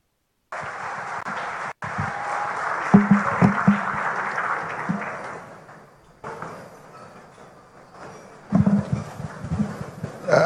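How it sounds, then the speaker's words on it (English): An audience at a conference event applauds, a broad wash of clapping that swells, fades away, then returns strongly near the end, with occasional louder thumps and rustle. "applause, please."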